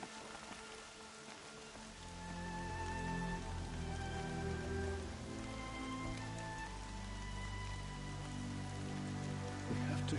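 Steady rain falls in a PS4 video game, a continuous wash of drops on surfaces running under layered tonal music and ambience, with no talk over it.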